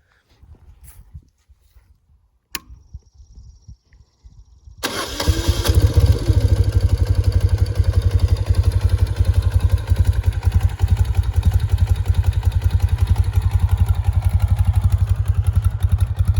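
After a few quiet clicks, a BMW R75 motorcycle engine starts and settles into a steady, loud, close idle at a little over 1,000 RPM with an even rhythmic thump.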